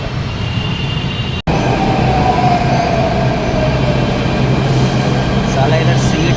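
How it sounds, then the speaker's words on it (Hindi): A metro train rumbles steadily at an underground station, a loud continuous roar with a faint high screech of wheels, after one brief cut near the start. "अभी 2 मिनट हैं हमारी मेट्रो में, वो आएगी फिर मेट्रो में बैठेंगे।"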